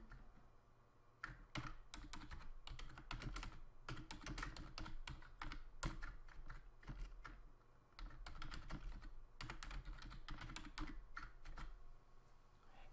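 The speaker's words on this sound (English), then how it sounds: "We can just simply type a message" A message is typed on a computer keyboard in quick irregular bursts of close, crisp key clicks with short pauses between runs.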